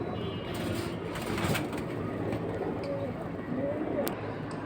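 Red-eyed male pigeons in a breeder's loft coo in a low continuous murmur, several birds overlapping with a few sharp clicks and distant background noise.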